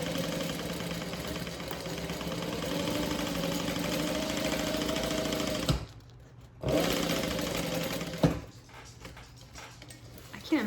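A sewing machine stitches the seam of a handbag at a half-inch seam allowance, a close, steady mechanical whir with two brief stops and restarts partway through.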